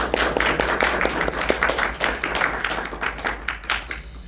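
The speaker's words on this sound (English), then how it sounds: "give our surprise guests a round of applause as well" An audience at a convention panel claps for surprise guests, a dense burst of applause lasting a few seconds and thinning toward the end.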